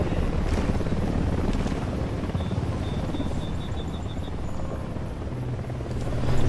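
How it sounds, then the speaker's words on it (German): Helicopter in the video game Ghost Recon Wildlands, a steady rotor drone holding at constant loudness through the whole stretch with no speech over it. "Helikopter!"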